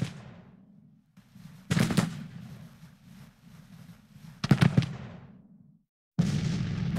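Heavy artillery booms in a strategy video game, a few bursts of loud rumbling impacts separated by quieter stretches of low ambient noise, with a sharp cut to another loud rumble at the end; no voices.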